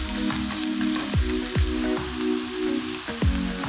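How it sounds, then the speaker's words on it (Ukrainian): Steady sizzling of onion and garlic frying in a hot pan, with a few scraping stirs cutting through the crackle and music playing underneath. "Закидаємо цибулю та часник на пательню і обсмажуємо 3 хвилини."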